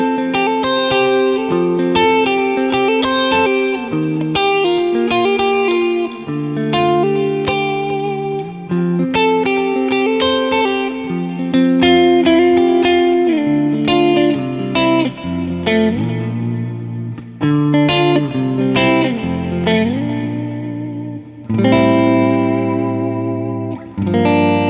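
Clean electric guitar through a Match Spit M2 amp profile on a Kemper, bright punchy chords and arpeggiated notes ringing steadily with chorus-like shimmer and light reverb, played alone for the full length.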